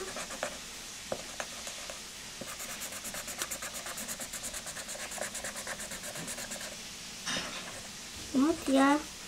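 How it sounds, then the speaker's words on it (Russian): A pink felt-tip marker colours a drawn pony's mane on paper, making rapid, close, repeated rubbing strokes in an even rhythm, with a brief voice near the end. "Теперь я ей буду разукрашивать гриву. У меня розовый фломастер потемнее."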